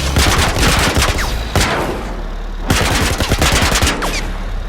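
Heavily armored vehicle turret firing in a video game: two loud bursts of rapid gunfire, each a dense run of sharp shots, separated by a brief lull, close and alone with no talk.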